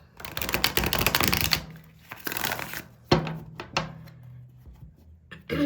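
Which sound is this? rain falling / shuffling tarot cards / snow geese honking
shuffling tarot cards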